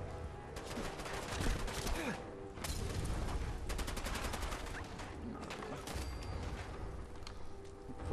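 Pipe pistol gunfire in the video game Fallout 4, rapid bursts of repeated shots in quick succession, sustained across the clip at moderate level.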